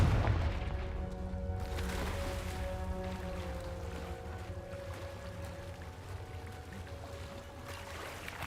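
A Confringo fire spell detonates in Hogwarts Legacy with a heavy low boom at the start, then a long rumbling, crackling decay that gradually fades under a faint musical hum.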